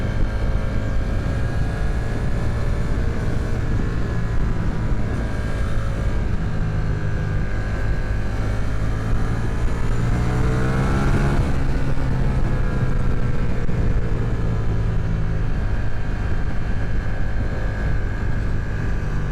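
Ducati XDiavel V4 cruiser motorcycle engine running steadily while being ridden, a loud continuous drone with shifting harmonic tones that rise and sweep as revs change midway, no talk over it.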